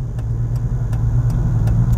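A car rumbles past up close, a low, steady engine drone that holds even and loud for a couple of seconds, with faint regular ticking above it and no voices.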